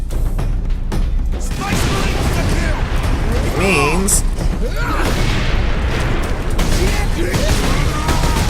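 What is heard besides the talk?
explosion in video game Warhammer 40,000: Space Marine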